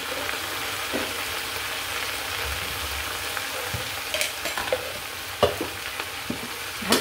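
Water spinach and other leafy greens stir-frying with garlic in a pan: a steady, even sizzle, with a few stirring scrapes and clinks toward the end.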